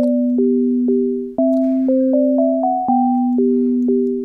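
A simple synthesized melody plays in clean, plucky electronic tones over a sustained bass note, stepping through a short phrase of Bach's Minuet in G at a steady tempo.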